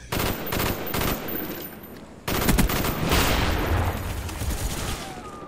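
M16 rifle in the Black Ops video game firing full auto in two long, loud sustained bursts with a brief gap between, a high-pitched ringing running over the gunfire.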